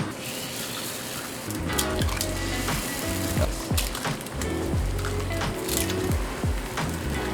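Eggs frying on a restaurant flat top grill give a steady, close sizzle with scattered pops, scrapes and spatula taps throughout.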